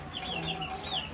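A mother hen clucks softly among her 17-day-old chicks, which add thin, high peeping calls over her low, near clucks in a brief farmyard moment with no talk.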